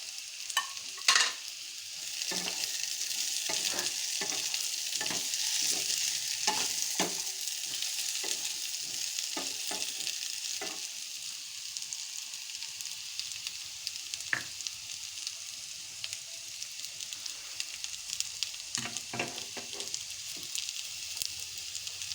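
Slit green chillies fry in a hot pan with a steady bright sizzle, while a spoon scrapes and stirs in repeated sharp knocks scattered across the whole stretch, close and fairly loud.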